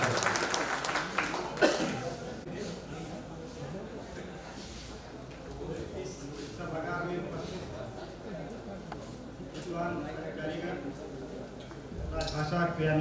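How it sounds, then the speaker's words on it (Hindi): Audience applause welcomes a speaker at the 10th annual official-language (Rajbhasha) conference in Dhanbad, a steady clapping wash across the hall, mixed with voices and a sharper burst near the start. "आपकी जोरदार तालियों के साथ"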